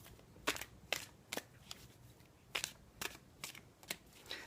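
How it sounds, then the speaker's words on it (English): Tarot cards are shuffled in a quiet room, giving a series of short crisp riffling bursts at irregular intervals, close and soft, with no talking. "I'm going to go ahead and shuffle and select your growth edges"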